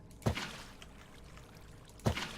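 Two brief splashes of water poured from buckets into a Minecraft build, each a quick soft gush followed by a faint trickle, quiet and separated by a pause.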